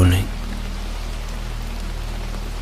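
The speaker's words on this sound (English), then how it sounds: "The rain kept falling." Rain falls in a soft, even patter, a steady hiss of drizzle that continues unchanged after a brief low sound at the start, with nothing else standing out.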